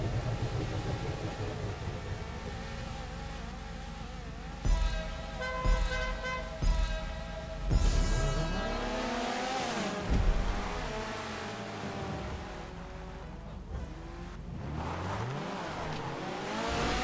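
Race cars in the video game GTA 5 drone and rev around a track, with sharp impacts and scraping bursts as they crash at the first corner, then engines rise and fall again as the pack drives on.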